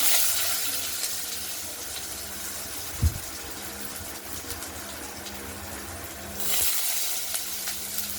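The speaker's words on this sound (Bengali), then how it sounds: "এবার আলুগুলো এই তেলে ভেজে নেব।" Potatoes fry in oil over tempered bay leaf, dried chilli and cumin, giving a soft, steady sizzle with a single knock partway through and a slight rise in hiss toward the end.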